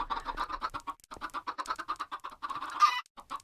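Minecraft chickens cluck in rapid, evenly spaced clucks with scratchy clicks, moderately loud and continuous, in an enclosed pen in the video game.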